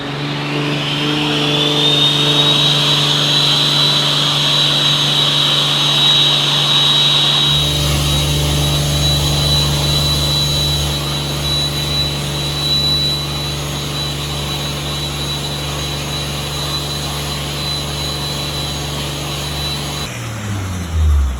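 Air blowing steadily through a see-through intercooler, a loud continuous rushing whoosh with a high whistling tone that swells, holds for about twenty seconds, then cuts off abruptly.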